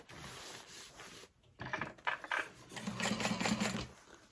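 A sewing machine runs in short bursts basting along the side of a fabric bag, a close mechanical whir that speeds up and stops.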